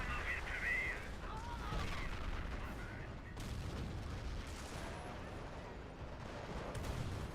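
Gunfire in a co-op video game battle, a faint, steady wash of distant shooting and rumbling booms that continues throughout.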